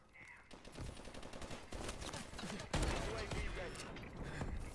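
Repeated blunderbuss blasts in a video game, a dense run of loud booming shots layered with clatter and game noise, with a voice talking over parts of the action.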